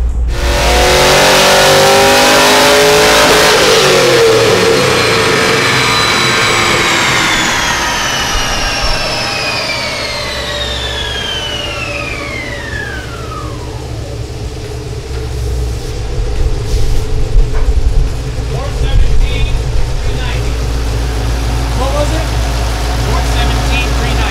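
A Mazda FD RX7 fitted with a V8 engine, running rich during tuning, revs hard and then winds down in a long falling sweep before settling into a rough idle, with a few more blips later on.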